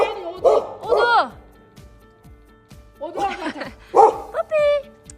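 A small puppy gives a few high, yappy barks and whimpers at close range, interleaved with people talking and calling out excitedly during a visit to a family home.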